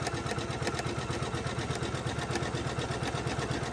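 A Janome 500e embroidery machine stitches a Christmas tree appliqué ornament with a steady, rapid rhythmic needle chatter and motor hum, close and continuous.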